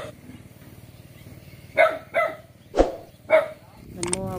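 A dog barks four times in a yard at a house, loud sharp barks spaced through the second half, with a voice talking before and after them.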